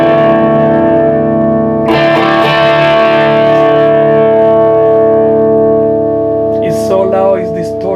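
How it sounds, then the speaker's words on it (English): Electric guitar through a Marshall amp, loud and heavily distorted, a thick sustained chord ringing with a sharp new strum partway through and a short burst of higher notes near the end. "It's so loud, it's distorted."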